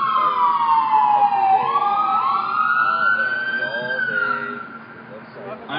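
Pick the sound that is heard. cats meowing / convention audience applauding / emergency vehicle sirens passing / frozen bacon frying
emergency vehicle sirens passing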